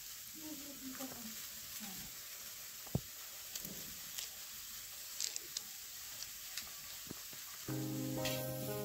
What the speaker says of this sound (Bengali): আমি ফুলকপিটাকে তেলে ভালো করে ভেজে নিচ্ছি লাল লাল করে